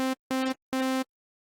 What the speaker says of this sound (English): you can hear the basic sound that you will have if you start with this synth.